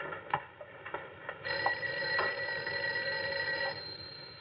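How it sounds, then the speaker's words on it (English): An old-fashioned telephone bell in a 1959 office scene rings in repeated bursts, the electric ringing loud and continuous after a few short opening jangles, with no voices. "I think your phone is ringing"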